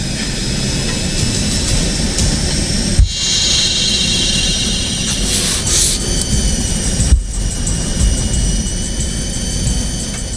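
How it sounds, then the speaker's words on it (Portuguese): An airliner jet engine at maximum thrust roars steadily, surging, with two sharp bangs and a brief surging swell between them. "Tivemos surtos e um barulho de estampidos e estalidos."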